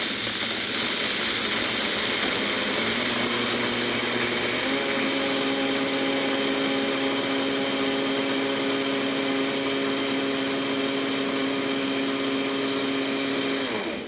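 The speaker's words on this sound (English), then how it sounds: "Wake up my machine. And I grind about 6 or 7 for a little while." A Vitamix Venturist 1200 blender with its blending bowl grinds whole coffee beans, giving a loud, steady motor whine and a gritty rattle that run without a break and shift pitch slightly as the speed settles.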